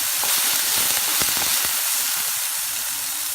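Green chili and peanuts frying in about a teaspoon of hot oil, a steady close sizzle and hiss with a few crackling pops early on, no voices.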